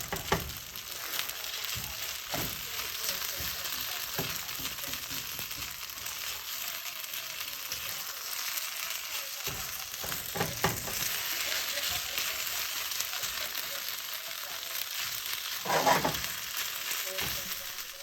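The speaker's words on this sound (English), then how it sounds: "Notice how I'm using the spatula, almost like cutting the rice and then also pressing them onto the pan." Fried rice sizzling in a pan while a spatula cuts and presses it, a soft constant frying hiss with scattered scrapes and taps, fairly quiet, louder near the end.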